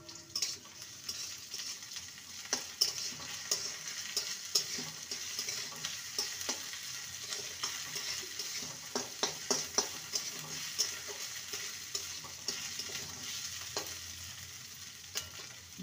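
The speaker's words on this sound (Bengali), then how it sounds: "আদা বাটা দিয়ে ভালো করে কষিয়ে নেব।" Winter vegetables frying with ginger paste in a pan for a spinach dal, a constant bright sizzle with frequent light scrapes and clicks of a spatula stirring throughout.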